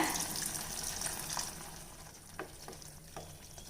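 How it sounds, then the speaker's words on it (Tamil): Hot water poured into sizzling cauliflower gravy in a pan crackles and hisses steadily, with a few splashy bursts as the liquid hits the hot mixture. "இப்போ இதில் தேவைக்கு நான் கொஞ்சமாக வெந்நீர் விட்டுக்கிறேங்க"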